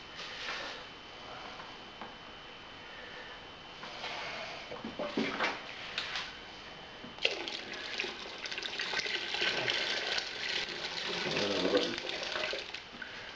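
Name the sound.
water pouring into brewing kettle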